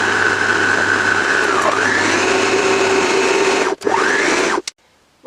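An electric mixer whirs loudly and steadily through cupcake batter in a home kitchen, its motor pitch dipping and rising as the load shifts, then cutting out briefly before a final short burst and silence.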